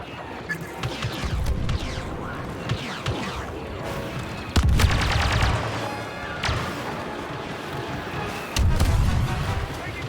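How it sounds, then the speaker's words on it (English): Blaster cover fire and heavy explosions boom during a Star Wars Battlefront II campaign battle, with loud bursts and impacts recurring over a busy din and occasional speech. "Stay here and lay down cover fire."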